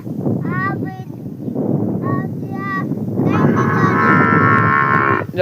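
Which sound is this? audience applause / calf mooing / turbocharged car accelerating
calf mooing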